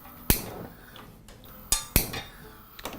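A cooking pan being set down and moved on a stove to reheat, giving a few sharp metallic clanks and clinks spaced apart over low kitchen background noise.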